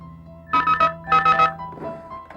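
A telephone rings in two bursts of three rapid electronic trills, clear and close, with a fainter ring trailing after.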